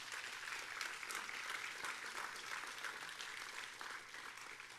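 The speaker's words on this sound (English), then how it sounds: "Let's give them a round of applause." Audience applause at an honours day convocation, steady clapping from a crowd that is faint and distant, continuing evenly before tapering slightly at the end.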